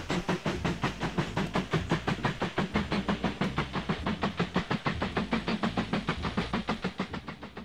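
A train rolls along in the railway-building game Mashinky with a steady, rhythmic clickety-clack, its wheels beating quickly and evenly over a soft hiss, close and continuous with no talk.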